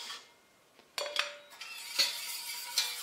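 A utensil scrapes and clinks against a bowl while lemon cream made with eggs is cleared out, a few sharp scraping strokes close up, fairly quiet, with no voice.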